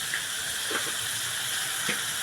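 Potato masala sautéing in a pan gives a steady close sizzle and hiss, with a couple of faint stirring clinks over it.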